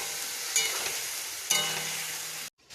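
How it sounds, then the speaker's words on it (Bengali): Spice paste, tomato and boiled pumpkin greens sautéed in a pan, giving a steady close sizzle and frying hiss, with two sharp scraping stirs of the spatula and an abrupt stop at the end. "এবার সিদ্ধ কুমড়ো শাকটা দিয়ে আরেকবার ভালো করে কষে নেব।"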